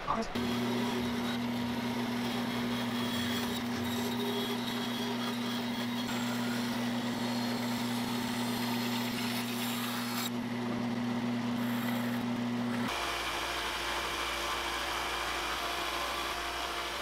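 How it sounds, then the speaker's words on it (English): One-inch belt sander running a 400 grit belt while shaping a wooden swimbait lure, a continuous motor hum with a steady pitched whine and grinding texture that drops to a different tone near the end. "One-inch belt sander. There's a 400 grit belt on there right now."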